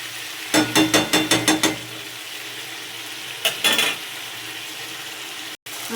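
Spices, potato and cauliflower frying in a pot for khichuri, with a run of quick rhythmic stirring scrapes followed by a shorter burst of stirring, over a steady low sizzle.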